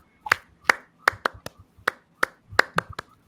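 About a dozen separate hand claps, crisp and close, in an uneven rhythm with short gaps between them and no voices.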